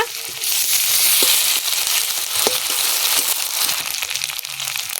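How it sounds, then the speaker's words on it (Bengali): Whole cumin, dried chilli, chopped onion, garlic and ginger paste fry in tempering oil for moong dal, giving a loud, dense, steady sizzle with faint crackles and a few soft knocks. "ফোড়নে দিয়ে দেব গোটা জিরে, শুকনো লঙ্কা, পেঁয়াজ কুচি, রসুন কুচি, আদা বাটা,"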